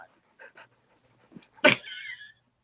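Dog panting close by with soft wet licking as it gives affectionate puppy kisses indoors, a few brief sniffs and mouth sounds leading into a louder burst of panting near the end.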